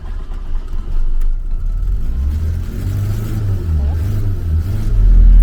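A Fiat Uno engine started with the key catches and settles into a loud, steady running rumble close by, building slightly toward the end, with a person talking over it.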